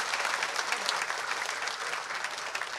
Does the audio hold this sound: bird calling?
no